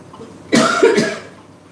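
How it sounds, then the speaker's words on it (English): A single harsh, hacking cough burst lasting about half a second, close up and loud, fading out with quiet room tone after. "Sorry. coughing fit."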